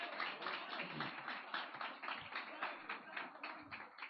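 Steady applause from a church congregation during a missions service, dense overlapping claps running evenly throughout at moderate level with no talk over it.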